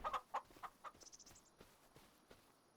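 Chickens in the Farming Simulator 25 video game cluck in quick bursts, several close calls at first and then fainter, softer clucks trailing off, with no talk over them.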